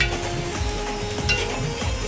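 Spice tempering of garlic and turmeric sizzles in hot oil, a steady crackling hiss with faint low stirring scrapes, heard nearby for a couple of seconds.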